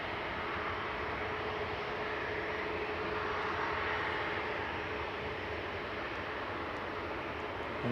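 An airliner departing Manchester Airport on a flight to Antalya gives a steady, far-off broadband engine roar that holds at an even level for the whole stretch, with no voices over it.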